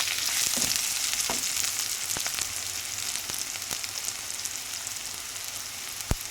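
Curry leaves and capsicum pieces fry in hot oil with a steady, dense sizzle and a few sharp pops and crackles, close up, with no voices.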